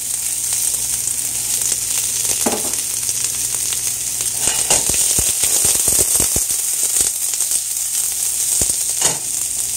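Onion drops into hot rosemary-infused olive oil in a pot, setting off a loud, continuous crackling sizzle with bursts of sharp pops and spits throughout; no voices.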